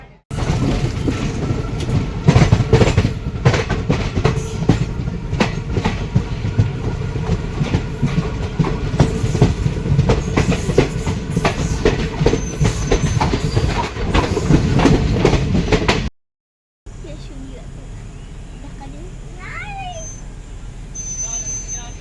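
Konkan Railway passenger train on the Panvel to Kankavli line, running steadily on the tracks with a loud, continuous rumble and rattling clatter for about sixteen seconds before dropping to a quieter interior hum, with voices faintly audible.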